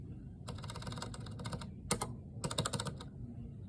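Keys clatter on a keyboard as a staff code and password are typed into a door-entry programming panel, arriving in quick bursts with short pauses and one louder key press in between, close and clear with no talking.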